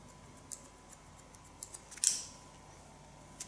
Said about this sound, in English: Just soften it a bit by ultra small point cut techniques.